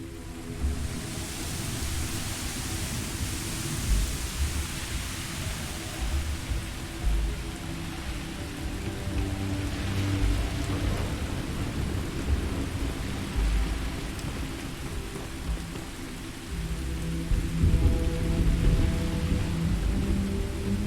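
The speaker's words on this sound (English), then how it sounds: "Doesn't really overlook a whole lot, and it's raining." Steady heavy rain and rolling low thunder in the video game Starfield form a loud, continuous storm wash that swells slightly near the end, with no talking.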